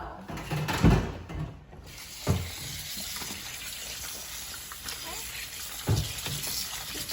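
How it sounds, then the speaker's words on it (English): Raw chicken gets a quick rinse under a kitchen tap. Water runs steadily and fairly softly with a few knocks and splashes, and a voice talks faintly over it. "I'm gonna go ahead and quickly rinse the chicken with just a little bit of water"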